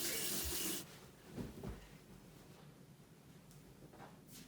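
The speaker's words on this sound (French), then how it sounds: "Je vais rincer tout ça." Tap water runs loudly into a sink for under a second while a pineapple-scented face scrub is rinsed off, then fades to soft splashing and dripping.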